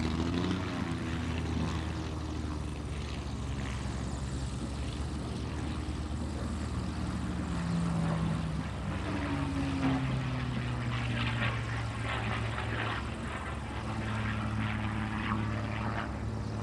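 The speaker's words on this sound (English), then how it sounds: "that beautiful P-51, the Brat 3 from the Kavanaugh Flight Museum. And a 4-point roll" A P-51 Mustang warbird, the Brat 3, flies a four-point roll during an air show, its propeller engine droning loudly and steadily with a shifting pitch as it manoeuvres overhead.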